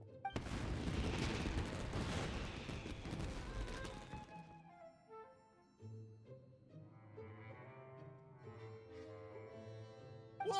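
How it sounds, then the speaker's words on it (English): Fireworks burst in a video game as a dense, loud run of booms and crackles lasting about four seconds, then die away as soft music takes over. "Yoimiya, this is turning into a bit of a fireworks display."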